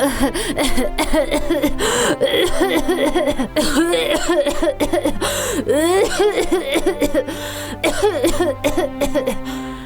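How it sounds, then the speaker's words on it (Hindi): Repeated harsh coughing from a cartoon character, close and loud, in several fits mixed with strained, groaning vocal sounds. "खांसी फिर से बढ़ गई है क्या?"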